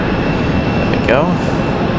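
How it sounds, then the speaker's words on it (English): An Airbus A321 jet taxiing at Raleigh-Durham International Airport gives off a steady broadband engine roar, with a brief rising whine partway through. "That A321 on the move."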